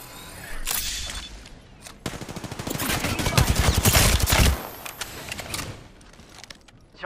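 In the battle royale shooter Apex Legends, sustained automatic gunfire rattles in rapid, dense bursts that swell to a loud peak and then fade into scattered shots, with game sounds in the background.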